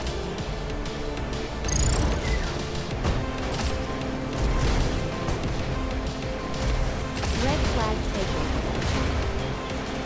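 Railgun shots and rapid gunfire from the vehicle combat video game ShockRods crackle in a loud, continuous battle mix of blasts, engine roar and game music, with someone talking over it.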